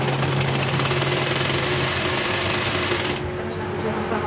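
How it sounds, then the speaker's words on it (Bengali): A sewing machine stitches the leg of a cotton plazo trouser, running as a steady, continuous mechanical whirr at close range that stops abruptly near the end, leaving a quieter background. "অন্য পাও আমি একইভাবে সেলাই দিয়ে নিব।"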